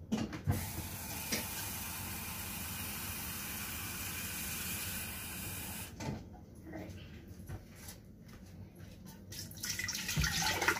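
Tap water running into a thick cooking pot in a home kitchen, a steady broadband rush that stops partway and leaves quieter clatter and handling noises, rising again toward the end.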